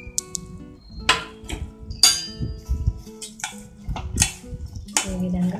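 Roasted flattened rice (poha) tipped into a pot with cardamom powder and stirred, giving clinks and scrapes of a spoon against metal with a few louder knocks, close and uneven.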